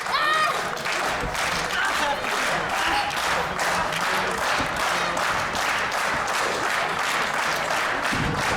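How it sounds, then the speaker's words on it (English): A GWF women's wrestling crowd cheers and applauds during an opening match, a loud continuous roar of clapping and shouting that fills the arena throughout, with voices rising out of the din. "You can hear this crowd are very much enjoying what they are seeing in this opener"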